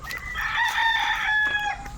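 A rooster crows once, loud and close, a drawn-out call with no talking over it.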